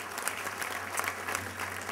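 A room of guests at a formal congressional dinner applauds the evening's MC, a steady, moderate clapping with a low hum of the hall beneath and no speech on top.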